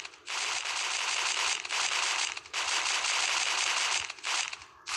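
Shotgun fire in the mobile game Stickman And Shotgun comes as loud, dense bursts of crackling blasts, three long volleys separated by brief gaps, with no talk over them.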